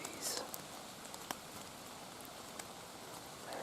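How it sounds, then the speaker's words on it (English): Water drips off the trees in damp, mild woods after rain, making a few sparse, faint patters and taps against a quiet outdoor background. "there's just water dripping off the trees"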